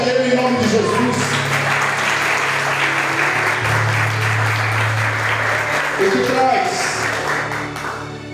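A church congregation applauds together in a long, sustained burst of clapping that fills the room. Music or a voice carries on underneath, and the clapping fades slightly toward the end.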